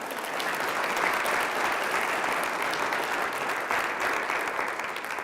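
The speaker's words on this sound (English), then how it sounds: "So can we give her a round of applause" A lecture audience breaks into applause, a dense, steady, sustained clapping that fills the whole stretch at close range with no voices over it.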